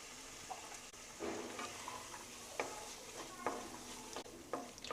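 Green peas being stirred into cooked ginger-garlic masala in a pan for Bengali-style aloo matar, with a steady sizzle and repeated soft scraping strokes of the spoon spread through the clip.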